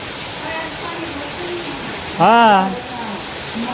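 Heavy monsoon downpour over a village, a constant even hiss of rain filling the background, with a voice briefly cutting in partway through.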